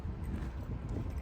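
Horse hooves clip-clopping on a trail at Yosemite, a steady close run of hoofbeats over low outdoor rumble, with no talk.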